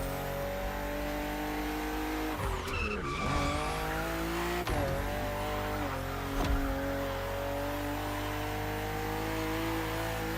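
A BMW M4 CSL drives hard in The Crew Motorfest racing game, its engine revving and shifting gears loudly with tire squeal, the engine note rising and dropping at each shift, with no talking.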